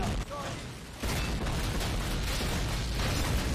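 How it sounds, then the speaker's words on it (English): A tank explodes in the World War II shooter game Call of Duty, hit by flak gun fire. The blast lands with a sudden heavy boom and then a long, dense rumble of debris and noise that fills the rest of the moment. "What an over-explosion for the tank."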